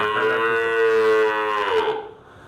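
A Holstein Friesian or Indian cow at a farm gives one long, loud, close moo lasting about two seconds, then trails off into quieter ambient noise.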